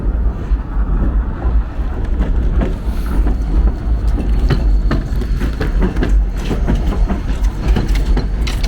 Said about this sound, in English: we have a train that's going to pass right above us.